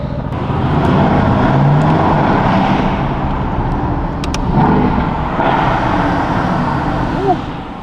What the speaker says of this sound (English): I love that you can really hear the turbo whistle in this car